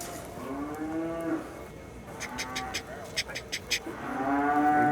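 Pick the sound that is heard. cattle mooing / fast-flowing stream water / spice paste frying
cattle mooing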